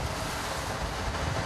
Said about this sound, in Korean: 점점 거세지는 파도